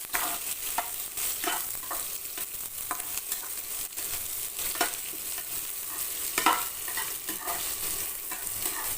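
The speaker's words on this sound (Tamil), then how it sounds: "கொஞ்சம் நல்லா வதங்கட்டும்" Onions fry in a pan for a broad bean and amaranth stir-fry, sizzling continuously with scattered clinks and scrapes of stirring, close up and with no voices.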